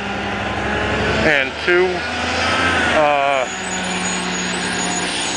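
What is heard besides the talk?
motorcycle engine while riding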